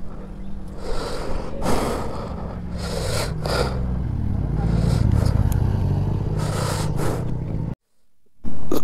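Motorcycle engine starting and running on a ghat section road, a steady rumble that builds and holds under someone talking, with some brief rustling, before a sudden drop near the end.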